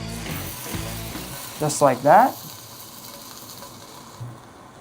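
Bacon-wrapped scallops sizzle in a hot cast iron pan, a steady close crackle running beneath a person talking, with a louder burst of frying noise partway through.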